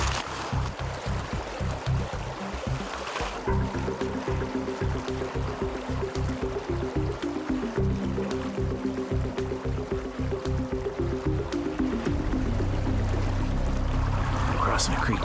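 Rushing creek water in Alaska, churned and sloshing as someone wades across in boots without waders, a steady outdoor wash with a voice talking over it.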